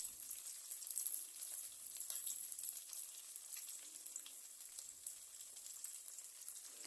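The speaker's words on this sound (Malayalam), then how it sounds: "അങ്ങനെ മസാല പുരട്ടിയ കാടയെല്ലാം ഫ്രൈ ചെയ്തുകൊണ്ട് വരണം" Masala-coated quail fries in hot oil, a soft, continuous crackling sizzle, faint and steady with no voices.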